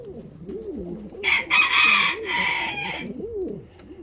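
Ottoman Hünkari pigeons cooing close by, perched on a person's shoulder; soft, low rolling coos repeat throughout, with a brief burst of brighter rustling or flapping in the middle.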